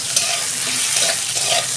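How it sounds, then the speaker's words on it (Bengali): Brinjal pieces sprinkled with salt fry in a pan, giving a dense, even sizzle with soft bubbling and faint stirring scrapes through a short stretch without speech. "বেগুনটাও ভেজে নেবো 2 মিনিট।"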